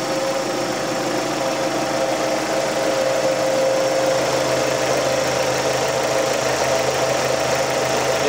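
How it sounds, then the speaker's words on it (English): Suzuki Forenza engine idling after a cylinder head installation, a steady, even mechanical hum with light ticking that runs unbroken and fairly close throughout, with no voices. "You can hear it running right now."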